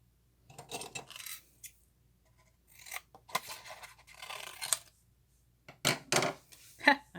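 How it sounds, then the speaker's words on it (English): Scissors cut a paper heart out of shaded spruce cardstock for a handmade card, with repeated close crisp snips in irregular bursts separated by short pauses, and no talking. "so that's the one in shaded spruce that I'm cutting out"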